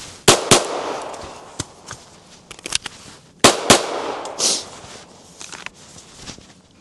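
Handgun shots ring out at an outdoor range during a two-reload-two drill, with loud, sharp reports in uneven groups and a pause between bursts, plus faint clicks and handling noise.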